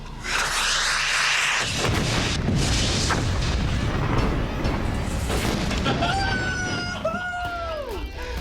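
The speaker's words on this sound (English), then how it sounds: "That was a nice explosion." A rocket-propelled grenade strikes an SUV in a staged Hollywood-style flip test, a huge roaring explosion filling the whole span with sustained rumble and debris crackle, followed by whistling tones near the end.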